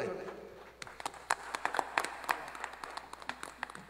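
Applause at the inauguration of a paving project in Los Chonayes, Santa Apolonia: scattered, uneven clapping from a modest outdoor audience, individual sharp claps standing out over a low murmur.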